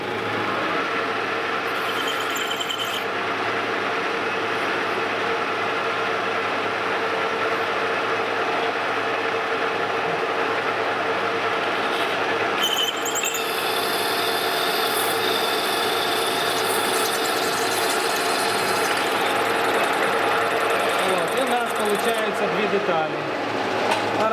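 A lathe parting off a turned workpiece gives a steady, dense grinding and scraping cut that runs continuously and fairly loud, with a brief shift in tone partway through.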